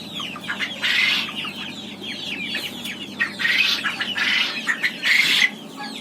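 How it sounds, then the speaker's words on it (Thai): Native chickens cluck and squawk on a poultry farm in Saraburi, Thailand, with several loud bursts of calls rising over a steady background of clucking and other birds. "นี่ครับไก่บ้าน"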